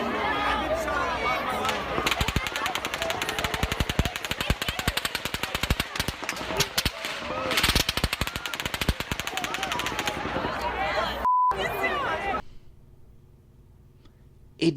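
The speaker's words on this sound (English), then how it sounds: "the gunfire does actually sound like there is gunfire going one over the other" Rapid automatic gunfire from the Las Vegas mass shooting, captured on a phone recording: long dense bursts of overlapping shots crackling for about twelve seconds, with voices and crowd noise underneath, then a cutoff and near silence.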